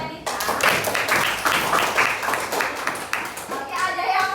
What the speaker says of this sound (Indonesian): tepuk tangan buat Renita